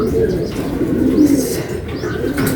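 Japanese homer pigeons coo steadily in low, throaty rolls, close and clear, with faint background noise.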